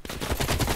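A brief, loud burst of AK-47 automatic fire in Black Ops Cold War, several rapid shots in quick rhythm, close and alone.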